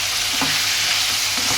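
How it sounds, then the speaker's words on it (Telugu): Tomato and ivy gourd curry being stirred in a pan, a steady sizzle with two scrapes of the spoon against the metal, close and continuous with no talking. "ఇది మంచిగా కలిపేసి మూత అనేది పెట్టేసుకొని"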